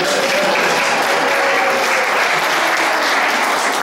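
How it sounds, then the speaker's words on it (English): A crowd applauds loudly and continuously at a community gathering, a thick, even wash of clapping held at full volume from start to finish. "Everybody clap up there."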